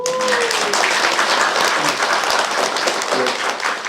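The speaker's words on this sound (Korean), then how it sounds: "우리 수고하신 솔리스트에게 같이 박수 드릴까요?" A church congregation at a Christmas service gives a warm round of applause for choir soloists, dense steady clapping filling the room for several seconds, with a brief voice at the start.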